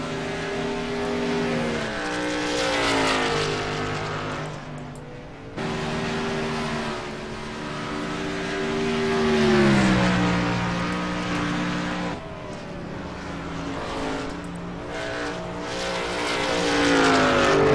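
Race truck engines roar at a Truck League race at Phoenix, loud and continuous, with rising and falling harmonic pitch sweeps as the trucks accelerate, downshift and pass, brief dips between the surges.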